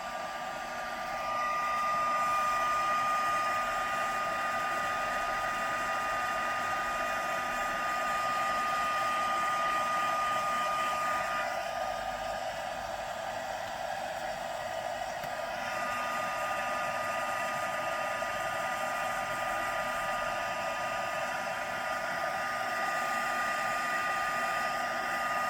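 A handheld heat tool blows a steady, loud whooshing hum, drying ink on a stamped card, running continuously without a break and without any talk.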